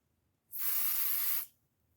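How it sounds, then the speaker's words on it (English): Spray adhesive misted onto fabric in one short, steady hissing burst of about a second, close and fairly loud, with quiet before and after. "I'm just gonna spray the fabric"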